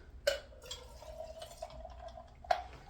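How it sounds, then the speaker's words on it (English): Espresso trickles and drips onto ice cubes in a glass, a soft liquid pour with a few sharper clinks and drops, quiet and close with no talking. "we're gonna pour this espresso over our ice"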